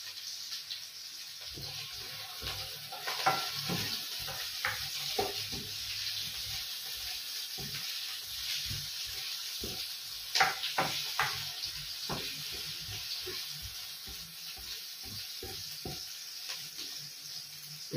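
Onions sautéing in a pan as the base for fish cooked in coconut milk, a quiet, steady sizzle with scattered spatula scrapes and taps across a long stretch, no talking.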